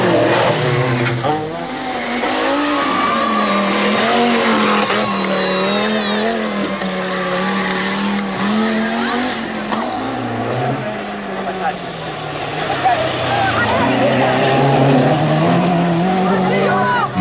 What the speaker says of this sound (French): 3 205 Turbo 16 vont y faire leur premier tour de roue